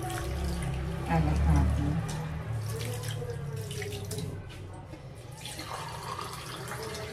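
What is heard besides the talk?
water poured for milkfish brine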